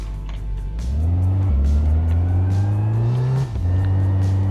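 A car engine reversing with a trailer in the My Garage video game holds a close, steady drone that climbs gradually in pitch, with a gear-like step early on and a short dip before it settles.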